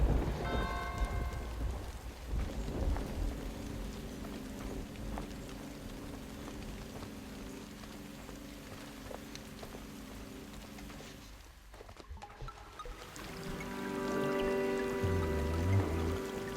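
Waterfalls in the Sword & Sworcery video game, heard as a continuous rushing, rain-like wash of falling water with soft tonal game music layered over it, briefly dipping before swelling again.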